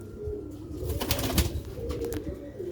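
Sialkoti silver-roof pigeons give soft, low, continuous cooing at close range, with a faint rustle in the background.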